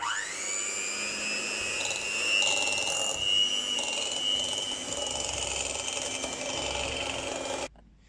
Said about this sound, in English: So first of all, for about 30 seconds, if you just whisk that up, Tamsin.